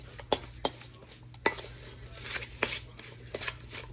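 Seasoning being worked into a raw meatball mixture with onion, garlic and salt, giving soft irregular squishing and scraping with a few sharper clicks against the bowl, fairly faint and close.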